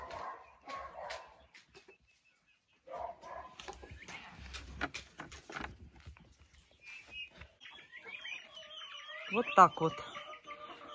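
Free-ranging turkeys on a farm give scattered clucks and calls while feeding on grass, with bursts of louder gobbling and wing flutter near the end; a person speaks briefly near the start.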